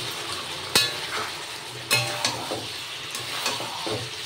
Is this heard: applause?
no